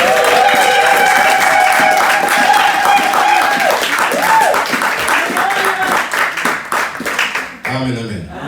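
A church congregation at a Sunday service claps and cheers, loud sustained applause mixed with voices and crowd noise that fades toward the end.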